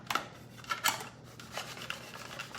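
Kitchen shears snip through raw chicken meat up close, giving a few soft crunching cuts and rubbing scrapes in a quiet kitchen.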